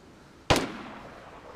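A single sharp gunshot cracks out in DayZ, a loud close report that trails off into a short echoing decay over quiet background.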